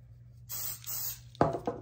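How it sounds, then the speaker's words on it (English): Cooking spray from an aerosol can is sprayed onto fingers in a kitchen while no-bake chocolate candy is being made, giving two short hissing bursts close by, followed by a couple of sharper handling sounds. "Now we're gonna spray our fingers"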